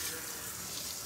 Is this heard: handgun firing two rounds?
no